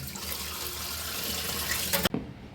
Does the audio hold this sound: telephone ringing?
no